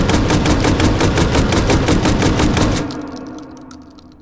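Rapid full-auto blasts from an AA-12 automatic shotgun fired one-handed in a video game, a dense unbroken string of loud shots for nearly three seconds, then a fading echo tail.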